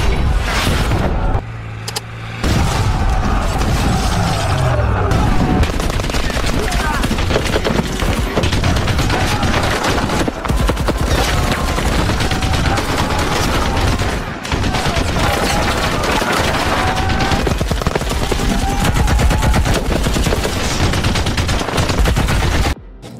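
Heavy gunfire in a large battle around an airport, with dense continuous automatic bursts, booms and fusillades filling the whole span, loud and close, with a few short lulls.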